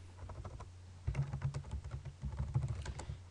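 Someone typing on a computer keyboard at close range, a short pause then bursts of quick uneven key clicks, quiet and with no voices.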